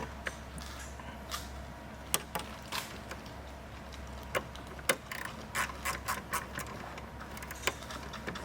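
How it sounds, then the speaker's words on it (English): Ratcheting wrench clicks in short bursts while a bolt is tightened on a Kia Stinger intake, the close metallic ticks irregular over a steady low hum, with no talking. "grab my wrench."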